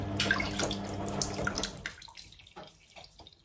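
Running water from a tap splashes as something is washed and rinsed several times, loud at first and then breaking into scattered splashes and drips.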